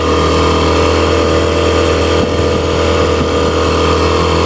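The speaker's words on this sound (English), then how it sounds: "Here we are at medium cruising speed. Engine going very, very nicely." A 1955 Mercury Mark 6 outboard motor hums at a steady medium cruising pace, a loud, even drone with a constant low tone and no talking.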